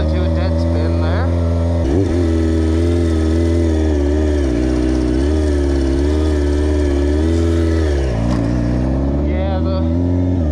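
Small-displacement 636 sport motorcycle engine with no O2 sensors, running steadily at a loud, close idle with rich harmonic drone and slight revving shifts near the start and end.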